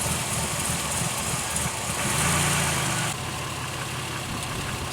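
A Pontiac Aztek with a rich-condition fault idles steadily as a close, continuous engine drone, with a slight rise in level midway before settling back.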